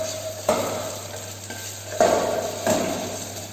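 Onion and ginger garlic paste sauté quietly in a pan, giving a soft low sizzle broken by three or four scraping stirs of a utensil against the metal, with no voices.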